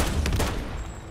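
Rapid gunfire from a Call of Duty match on the Suburbia map, a burst of several close shots in quick succession, then tailing off into quieter game ambience.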